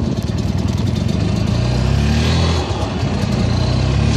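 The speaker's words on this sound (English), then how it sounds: "We're going to be going down here on a golf cart." A golf cart pulls away on a ride, its engine droning steadily and loud throughout, with a continuous low rumble and constant wind noise.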